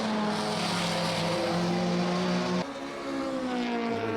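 Baltic Touring Cars BMW touring race cars at a DeWALT Grand Prix, engines roaring loud and sustained as the pack moves off, shifting pitch with a gear change midway.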